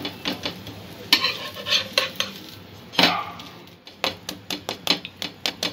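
Oats and egg toast cooking in a pan, with a spatula clattering and scraping in quick irregular bursts over a faint sizzle, close and fairly loud.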